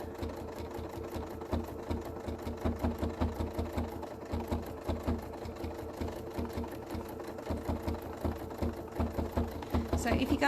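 A sewing machine with an open toe foot stitches down stamped fabric, running steadily and close with a rapid even needle rhythm that continues for the whole stretch, with no one speaking over it.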